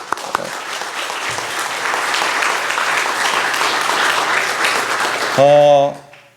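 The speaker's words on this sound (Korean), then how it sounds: "오늘 오신 분들 박수 한번 했으면 좋겠어요." A church congregation at a Sunday service claps steadily for about five seconds, then the applause cuts off as a loud sustained musical chord rings out.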